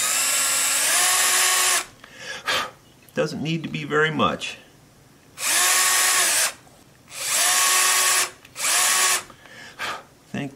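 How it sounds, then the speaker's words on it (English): A tiny wire drill bores a short way into a small indentation in a mandolin part, whining loudly in several short bursts with pauses between them, while someone speaks briefly in a gap between bursts. "And now I will just go in that little indention and drill it just a little ways."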